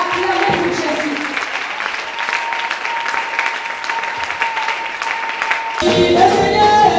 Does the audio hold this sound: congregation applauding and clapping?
yes